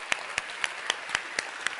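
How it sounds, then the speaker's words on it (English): Rhythmic audience clapping for teachers at a talk, with a handful of sharp, evenly spaced claps in unison ringing out over a light background of scattered applause. "Can you clap? I know you can clap, but you can clap even more."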